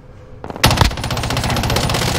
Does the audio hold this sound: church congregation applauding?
no